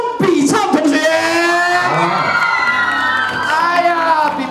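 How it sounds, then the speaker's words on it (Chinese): Loud studio audience cheering and shouting with applause to welcome a guest onto a Chinese variety show celebrating a revamp, a dense, sustained crowd roar with whoops throughout. "掌声欢迎"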